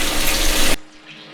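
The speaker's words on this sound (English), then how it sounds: "there's our aerator blowing all the bubbles" Battery aerator bubbling in a live bait tank for a boat or jetty, a steady close rushing, gurgling water sound that cuts off abruptly, leaving a faint low hum.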